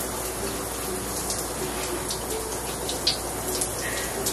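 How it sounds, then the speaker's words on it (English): Shower water runs steadily in a bathroom, a continuous broad hiss of spray with a few faint splashes and drips, fairly close and uninterrupted, no talk. "I've been in the shower for about 4 minutes."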